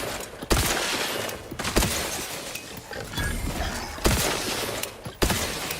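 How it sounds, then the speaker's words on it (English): Gunfire in The Outer Worlds 2 cracks out in several sharp bursts, loud and close, spaced by brief gaps with a gritty, shattering edge and no voices over it. "I don't even know what I'm shooting at this distance."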